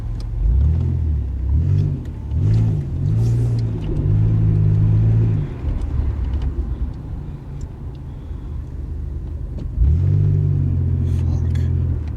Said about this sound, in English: I boosted the engine.